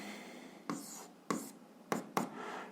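A pen writes an algebra equation on paper in four quick strokes, each a sharp scratchy burst, close and alone in a quiet room.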